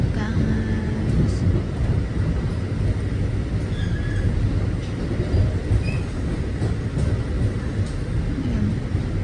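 A long train rumbles steadily past close by near Pioneer Village station, a dense continuous roar of wheels and rail noise lasting throughout, loud and unbroken, with no clear talking over it.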